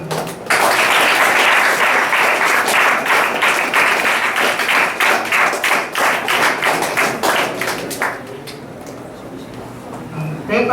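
An audience at a math contest prize distribution claps loudly with clear, rhythmic individual claps. The applause holds for about eight seconds and then thins out into quieter room noise.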